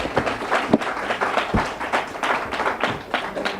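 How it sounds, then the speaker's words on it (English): Scattered applause rises from an audience at a Black Psychiatrists of America event as Congressman Elijah Cummings is introduced, with loose irregular clapping of moderate loudness and a few sharper individual claps standing out. "Please give him a round of applause."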